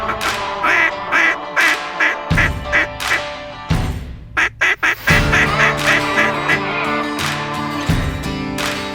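Mallard ducks quack in loud, close bursts of repeated rhythmic calls during an early-morning hunt in the Texas Panhandle, with brief gaps between the series.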